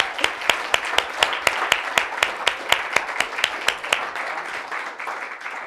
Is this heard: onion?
no